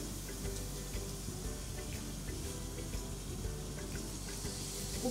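Water is poured into a pan of frying fish curry masala, producing a faint continuous splashing hiss with soft sizzling underneath, close and quiet.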